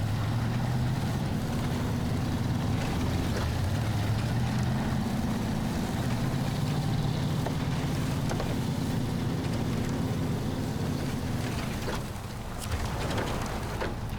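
A heavy truck engine in SnowRunner rumbles steadily, its low drone rising and falling as the revs shift, with light mechanical clatter over it before it eases slightly near the end.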